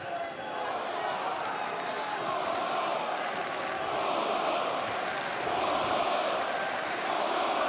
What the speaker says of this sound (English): You can hear this Parisian crowd, of course, behind Czech Kongo